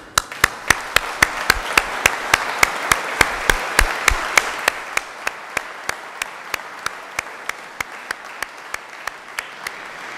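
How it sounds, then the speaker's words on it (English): Graduates at a summer graduation ceremony applaud their families in the audience, a broad wash of clapping over which one close, sharp pair of hands claps in a steady regular beat, the whole round slowly thinning toward the end. "can you give them a huge round of applause?"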